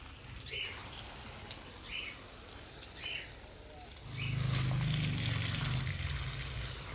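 Water gushes from a long garden hose pipe after a valve is opened in a Pakistani village yard, a steady rushing flow that swells noticeably louder midway, while birds chirp repeatedly in the background.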